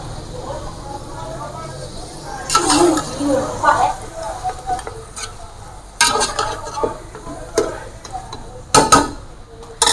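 Mutton biryani masala, with tamarind and pickle just added, gets stirred in a pot. Repeated scraping strokes come in bursts over a soft sizzle, with quieter gaps between them.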